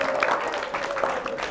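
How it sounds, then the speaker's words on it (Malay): Parents and children at a school parenting talk applaud a child, a moderate wash of many hands clapping, with a faint steady tone and some voices mixed beneath it. "tepukan untuk Syahir Naufal"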